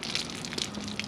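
A garden hose sprays lots of water over a car being rinsed during a DIY ceramic coat wash, a brief, steady broadband hiss with small splashing bursts.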